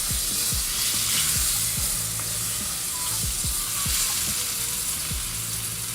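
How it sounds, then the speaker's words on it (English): Loud, continuous sizzle of food frying in hot oil, a dense hiss filling the kitchen, with recurring low knocks from utensils stirring or tapping the pan. "We frying, it's a little hot."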